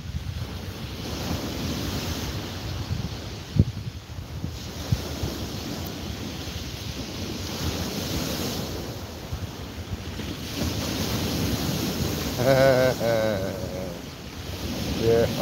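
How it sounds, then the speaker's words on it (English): Ocean waves roll in and break on a beach in a steady, continuous wash, with wind buffeting the microphone and a brief tonal sound near the end. "As the waves are coming in, you see it reflecting off, and it looks like it's spiralling."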